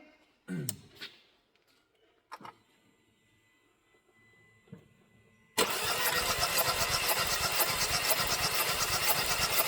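A Citroen C4 engine with a misfiring cylinder cranks on the starter during a compression test, a loud, steady, rhythmic churning that begins abruptly after several seconds of near silence with a few faint clicks.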